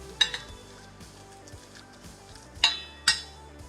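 Spoon clinking against a bowl while grated mango pickle is mixed with chilli powder: a few sharp metallic taps spaced apart, the loudest near the end, over a quiet background.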